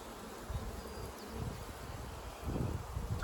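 Honey bees buzz around a large, busy beehive during a June hive inspection, a steady low hum with some swelling and fading as the insects pass close by.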